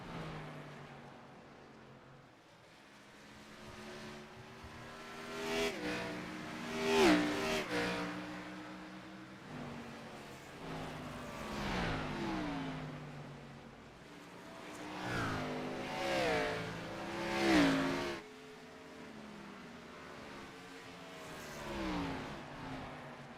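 Race cars lapping a paved oval in a Pricks of Pavement Cup Series event, engines swelling and fading in repeated passing surges, some near and loud, with an announcer talking over them.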